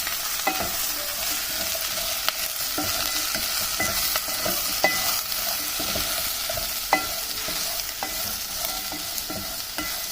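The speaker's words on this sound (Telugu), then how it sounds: "మంచిగా కలుపుకోవాలండి" A stuffed chili curry mixture with onions is stirred in a hot pan, and a constant close sizzle is broken by a series of sharp spoon scrapes and taps at an irregular pace. No one speaks.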